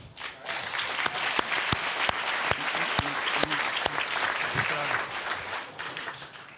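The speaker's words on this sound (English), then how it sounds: "A round of applause for Doug." Sustained applause from a crowd at a journalism talk, steady clapping throughout with a few louder individual claps standing out, voices faintly mixed in.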